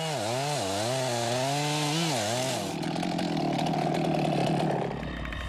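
Chainsaws with freshly sharpened chains are clearing timber, the engine revving up and down in loud wavering surges before settling into a dense, rasping cut through wood; close and continuous, no voices.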